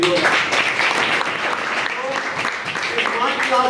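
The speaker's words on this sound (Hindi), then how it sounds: "एक बार आपके लिए ताली बजा दीजिए" Students in a government school classroom in Mujgahan clap together during a career-awareness talk, a steady, dense patter of applause lasting throughout with some voices mixed in.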